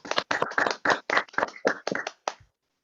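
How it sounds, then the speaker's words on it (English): Clapping at a youth debate on human dignity, heard as about ten separate, close claps in an uneven rhythm that stop abruptly, more like one or two people than a full crowd. "Let's give him a big round of applause as well."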